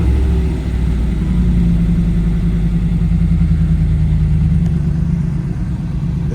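A 3rd-generation Pontiac Firebird Formula engine, freshly rebuilt, rumbles at a steady idle, a loud, close, low-pitched throb with an even rhythmic pulse and no talking over it.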